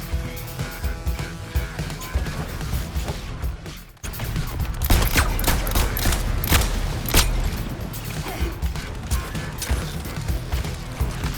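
Dense gunfire and crashing impacts from a Suicide Squad: Kill the Justice League gameplay battle, continuous loud bursts over a mechanical din, with a brief cut to near silence around four seconds before the shooting resumes.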